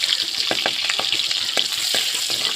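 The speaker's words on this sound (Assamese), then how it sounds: "কেৰাহী এটা লৈছোঁ, তাতে মই পাঁচফোৰণ দিলোঁ, এটা শুকান জলকীয়া দি দিছোঁ আৰু পিঁয়াজ এটা মিহিকৈ কাটি দিছিলোঁ। সেইখিনি ভালদৰে ভাজি ল'ম।" Onion, panch phoron and a dry chili fry in a wok with a close, steady sizzle, while repeated scraping and stirring strokes come at a quick, regular rhythm.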